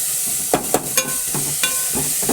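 Curry leaves dropped into hot oil with onions in a frying pan for a coconut-based fish curry crackle and sizzle loudly, with several sharp bursts and spatters over a steady frying hiss.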